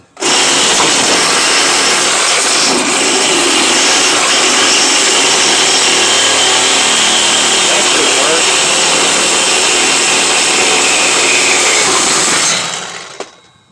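A power tool cuts through the welded rod of an exhaust hanger under a truck, giving a loud, steady, high-pitched grinding whine that lasts about twelve seconds before winding down.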